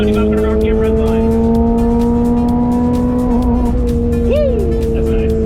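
A 2022 Toyota GR86 accelerating on a track, its engine note climbing steadily toward a 7,500 RPM redline as a loud, rising whine inside the cabin, with a voice talking over it.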